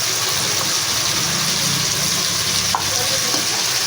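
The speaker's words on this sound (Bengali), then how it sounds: "হলুদের গুঁড়ো দিয়ে দিলাম, দিয়ে একটু ভাজা ভাজা হচ্ছে।" Turmeric powder fries in hot oil in a pan for a vegetarian potato curry, giving a loud, close, steady sizzle with a faint stir or clink near the end.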